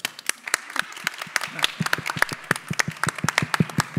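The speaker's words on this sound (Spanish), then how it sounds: "Aplausos." Audience applause at a panel talk, a steady run of sharp individual claps close by, building and continuing throughout without speech.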